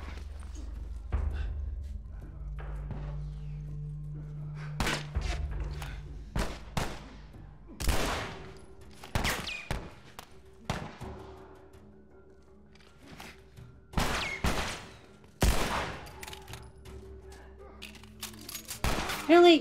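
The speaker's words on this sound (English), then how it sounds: "Ah, someone started shooting." Gunfire crackles through a tense firefight in The Last of Us Part 1, sharp repeated shots and bursts scattered irregularly across the scene, loud and close, with a player talking over parts of it.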